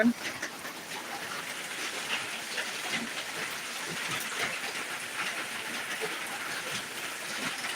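Heavy monsoon downpour in Dinajpur, a dense, steady roar of rain hitting surfaces that stays loud and unbroken throughout, with no one talking.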